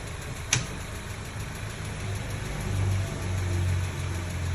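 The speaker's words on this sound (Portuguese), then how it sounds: "Parece que tá fazendo barulho de válvula." A car engine idles in neutral, making what sounds like valve noise, with a low steady hum and a faint rise in the middle; a single sharp click sounds near the start.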